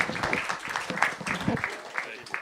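Audience applause at a Bitcoin summit, faint and distant beneath a nearby voice talking over it.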